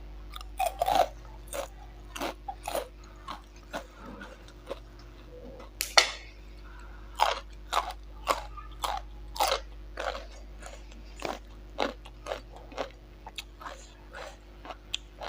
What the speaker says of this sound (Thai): แคบหมูกรอบๆ